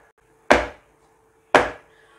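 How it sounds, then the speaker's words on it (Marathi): A metal cake tin for a black forest cake is tapped down on a hard surface twice: two sharp, close, loud knocks about a second apart, each decaying quickly over a faint steady hum. "आता हा केक टिन 2 ते 3 वेळा असा छान टॅप करून घ्यायचा."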